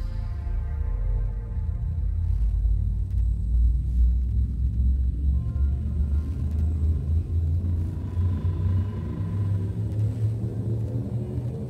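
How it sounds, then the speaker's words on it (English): Frameshift drive charging in the video game Elite Dangerous, a deep, continuous spaceship rumble with a tonal hum that builds and shifts steadily throughout. "frameshift drive charging."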